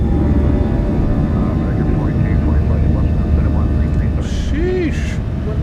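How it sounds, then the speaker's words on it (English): Boeing 737-800 engines of an American Airlines jet spool at takeoff power in a flight simulator, a loud, steady broadband roar that fills the whole stretch, with faint voices and a few brief chirps on top. "Takeoff power set."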